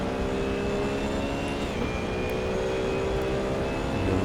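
Racing car engine at full throttle in second gear in the Assetto Corsa racing game, a loud continuous droning roar with steady harmonic tone that rises slightly in pitch, heard alone.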